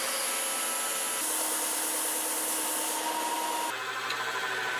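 Hole saw chewing through wood on a drill press, producing a steady, loud grinding whine with a continuous broadband rasp; the tone shifts near the end as the cut changes.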